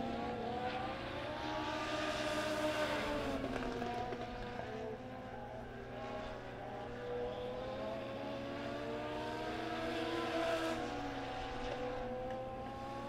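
Wheeler Metal Legend cars race a heat at Springfield Raceway's dirt track, engines droning and rising and falling in pitch as they pass, with a faint voice underneath.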